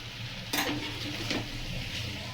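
Bottle gourd with spices and salt is stirred in a pan, a spoon scraping and sizzling faintly over a steady low background hum, with one sharper scrape near the start.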